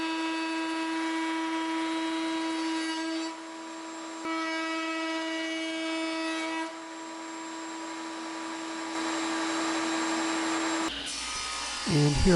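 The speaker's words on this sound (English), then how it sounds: "here I am cutting another panel on the table saw" Table saw whining as it cuts a wooden panel for the front and rear of a bird feeder, a steady close motor drone with slight changes in load and a short clatter at the end.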